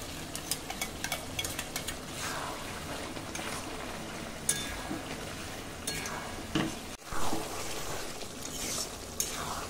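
Chicken curry with potatoes and tomato sauce being sautéed in a pan, soft sizzling with a string of light stirring scrapes and utensil knocks, fairly quiet and close.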